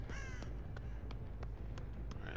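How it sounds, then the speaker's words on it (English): A crow in the game Dead by Daylight caws repeatedly, about six or seven short, evenly spaced calls over a low ambient rumble, with no one speaking. "It's a crow."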